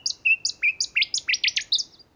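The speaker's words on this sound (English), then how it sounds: "the noisy scrub bird." A noisy scrub-bird from Australia gives a rapid series of about ten loud, sharp, ringing chirps that rise and fall in pitch, close and clear against a quiet background.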